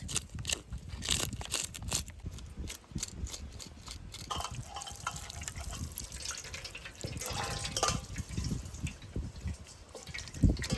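Water poured and splashing into a container while fish is being cleaned, with irregular gurgles, drips and sloshes close by and no talk.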